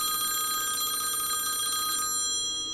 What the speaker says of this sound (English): It's hard to ignore a phone that's ringing.